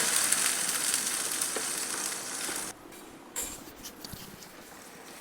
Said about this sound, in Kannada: ಲೋ ಫ್ಲೇಮಲ್ಲಿ ಇದನ್ನು ಚೆನ್ನಾಗಿ ಫ್ರೈ ಮಾಡ್ಕೊಳ್ಳಿ